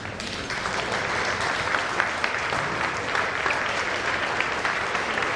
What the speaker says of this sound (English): But I'd like for us to rise and give them a round of applause.